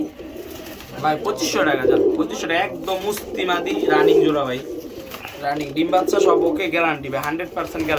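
Pigeons coo in low, throaty repeated bursts, close by, while people talk over them through most of the stretch.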